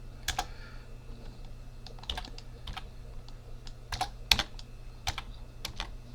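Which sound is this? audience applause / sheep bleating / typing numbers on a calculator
typing numbers on a calculator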